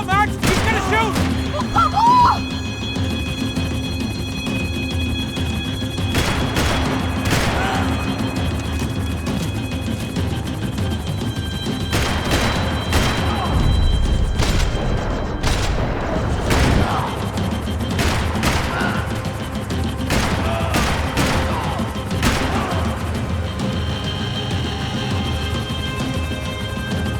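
Rapid bursts of gunfire crackle through a Max Payne 3 action sequence, with loud shots spread irregularly across the scene over steady engine rumble and a dense, chaotic backdrop, while voices shout over the action.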